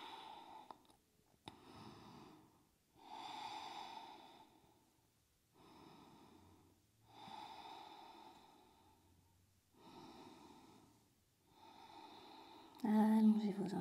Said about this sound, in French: Allez, encore 8 belles respirations.